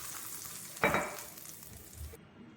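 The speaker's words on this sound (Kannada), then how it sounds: "ಈಗ ಮಾಡಿಟ್ಟಂಥ ತಂಬುಳಿಗೆ ಈ ಒಗ್ಗರಣೆನ ಸೇರಿಸೋಣ." A tempering of curry leaves hits sambar leaf yogurt thambuli with one short, loud sizzle burst, then fades to faint crackling in a quiet kitchen.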